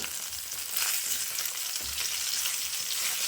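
Brinjal pieces fry with salt in a pan, giving a steady, close hiss and sizzle with soft stirring scrapes, and no talking over it.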